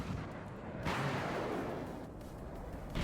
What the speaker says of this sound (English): You see the blast radius from the artillery.